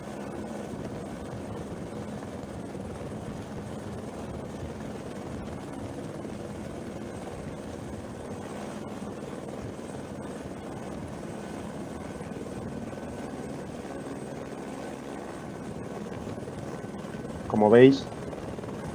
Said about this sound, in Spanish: en todas las situaciones en las que se acerca el helicóptero al terreno